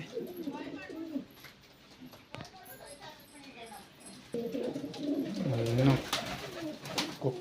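Pigeons in a loft coo softly and repeatedly, the low throaty calls swelling louder toward the end while someone talks over them.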